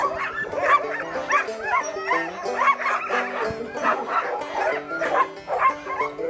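Alaskan husky sled dogs at a dog-sled tour yard in Yellowknife, Canada, yip, whine and bark in a dense, overlapping chorus, several dogs close by and continuous throughout.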